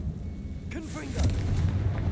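Confringo fire spell blast from Hogwarts Legacy gameplay: a short whooshing, booming burst erupts partway through and then fades into a rumbling tail over low background noise.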